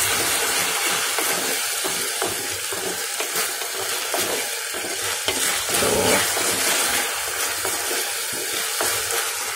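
Mutton handi frying vigorously on a high flame while being stirred, with a continuous loud sizzle and rhythmic scraping of the spoon against the pot, close up and with no voices.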